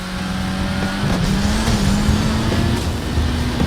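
Car boosting with nitrous during a chase in the Fast & Furious Crossroads video game, a steady loud engine whine climbing slightly in pitch over a continuous rushing roar.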